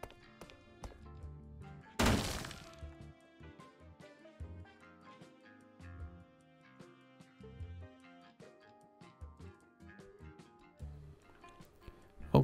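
Scattered thumps and scraping knocks from stripping down corridor walls in the Hotel Renovator game, quiet and intermittent, with one sharper louder hit early on and soft background music.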